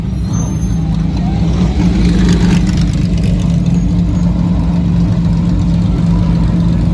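A classic race car, a Matra MS650 at the Tour Auto rally, idles with open side-exit exhaust, giving a loud, steady, rough low rumble that holds for several seconds with no pause.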